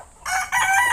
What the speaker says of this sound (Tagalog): Ay, may manok din pala rito, niyo inahin.